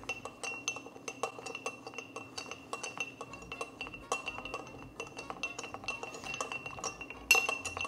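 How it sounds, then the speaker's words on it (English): Bar spoon stirring a rum old fashioned over one large round ice cube in a glass, giving steady rhythmic clinks and chinks of ice against glass, close and clear with no talking. "all we're gonna do is give this a stir and get it cold"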